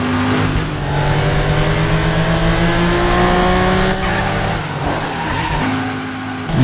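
Car in the video game Driver, its engine droning and revving steadily while tires squeal as the back end slides out, loud and continuous with no talking.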